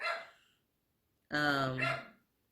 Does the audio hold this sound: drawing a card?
no